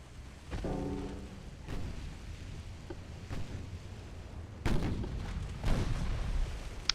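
Warship guns fire in a naval battle in Ultimate Admiral: Dreadnoughts, sounding as a few heavy booms spread across the stretch with rumbling noise between them.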